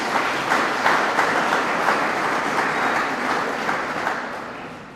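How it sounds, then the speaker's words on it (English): An audience applauds at the official opening ceremony of a centre of excellence, with steady, dense clapping from a crowd that holds for several seconds and then slowly tapers off. No one speaks over it. "Round of applause, please, for Thandi Pillay."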